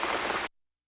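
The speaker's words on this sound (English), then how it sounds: "It's raining." A VTech Touch and Discover Alphabet Town toy from 2005 plays a short burst of steady hissing rain, recorded directly, which cuts off abruptly after half a second.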